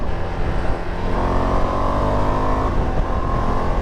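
A 2025 Ducati Multistrada V2S or V4S touring motorcycle engine drones loudly and close, with the pitch rising and falling as it revs under a continuous rushing wind noise.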